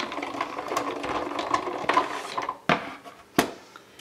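A small die-cutting machine pressing paper with round dies, giving a continuous rolling, rattling crank noise followed by two sharp mechanical clunks near the end.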